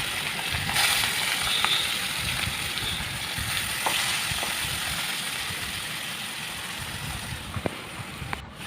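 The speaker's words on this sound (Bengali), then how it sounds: "কড়াই বসিয়ে দিয়েছিলাম, তেলও দিয়ে দিয়েছিলাম, মাছগুলো ধুয়ে মিলে মিশিয়ে করছিলাম, তেলে ছেড়ে দিলাম।" Washed fish frying in hot oil in a wok, a steady crackling sizzle running throughout with occasional sharp pops and spits, fairly close and alone without speech.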